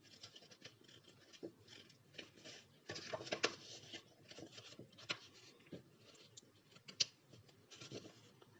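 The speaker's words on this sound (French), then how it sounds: "je vais prendre un ciseau pour rectifier ici" A small, fine chisel trims a paper stair-step card in quiet, close scraping strokes and short scratches, with a busier burst of rasping near the middle.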